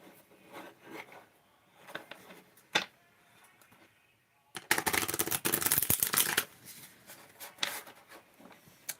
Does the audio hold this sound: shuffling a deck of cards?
yes